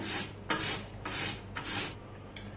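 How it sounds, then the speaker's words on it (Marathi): Potato held upright and grated by hand on a kitchen grater into long shreds, heard as three loud rasping strokes in a steady rhythm, close up, with no talking. "असा बटाटा उभा पकडायचा आणि किसून घ्यायचा"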